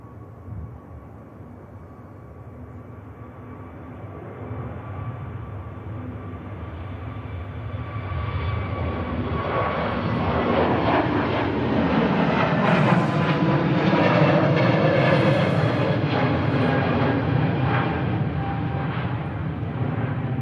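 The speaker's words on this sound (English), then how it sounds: "Turkish Airlines A321 Neo heading off to Istanbul," A Turkish Airlines Airbus A321neo rolls down runway 23 right at Manchester Airport, a broad jet roar swelling steadily louder over twenty seconds, heard from a distance outdoors.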